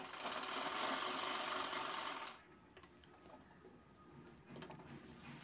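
A sewing machine stitching a small box on bag lining runs with a steady, close whirring buzz for about two seconds, then stops, leaving faint handling noises.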